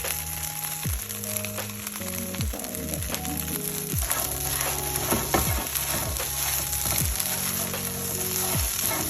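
Idlis fry in oil in a pan for chili idli, giving a steady hiss with occasional scrapes, while tonal music plays prominently over the sizzle; no talking.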